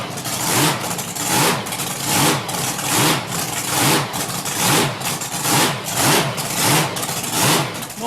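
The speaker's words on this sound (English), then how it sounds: "My engine's a 540 cubic inch engine." A racing boat's 540 cubic inch Merlin block engine with a Crower rod, Lunati crankshaft and Rodeck cylinder heads runs steadily and loudly, its drone swelling and easing in a repeating pulse as if revved and throttled back.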